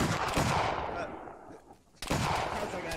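A musket volley in Arma 3's Napoleonic setting, two loud overlapping bursts of ragged gunfire, each rolling away into a fading echo, close and dense, with voices faintly beneath.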